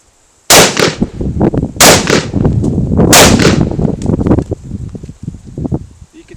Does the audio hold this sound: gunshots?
yes